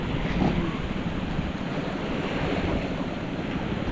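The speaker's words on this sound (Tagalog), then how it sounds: "Ayan, dagat." Sea surf along a shore in Masbate, Philippines, a steady broadband wash of waves with wind buffeting the microphone, continuous and fairly close, with no talking.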